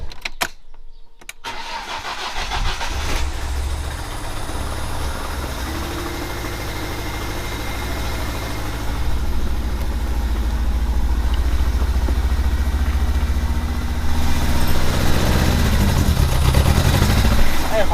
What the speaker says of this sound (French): Est-ce qu'elle va démarrer?